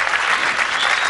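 An audience at the Nuestra Belleza Latina 2015 televised beauty pageant breaks into dense, continuous applause, loud and sustained from start to finish.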